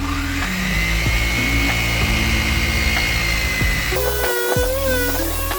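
A machine polisher whirs steadily on a Nissan R34 Skyline headlight lens, a loud continuous drone with a higher whine that shifts pitch partway through as pressure changes, with no talking.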